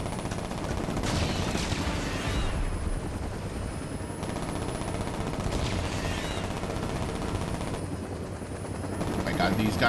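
Rotor-like hum of a VTOL aircraft in Saints Row, steady and fairly loud throughout, mixed with bursts of gunfire and game effects, with players talking over it.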